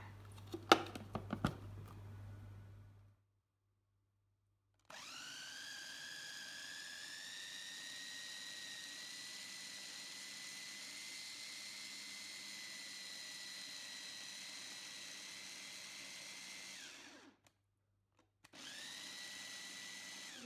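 An electric food chopper grinds spices, including coriander, for tempeh: a loud, steady motor whine runs for about twelve seconds, cuts out briefly, then starts again, with some rattling before the first run.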